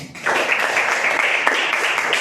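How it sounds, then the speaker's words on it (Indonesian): A classroom of children applauds together, a dense burst of clapping that starts abruptly and holds steady at close range for a couple of seconds. "kita beri tepuk tangan untuk kita semua ya"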